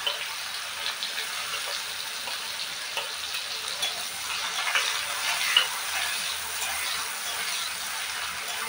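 Onions fry in a pan of curry base after crab has been fried, making a soft, steady crackling sizzle with scattered small pops and a light stir or scrape now and then.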